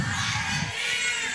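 A church congregation at a youth cadet gathering breaks into loud, dense applause and cheering that fills the room, with mixed shouting voices in the crowd throughout.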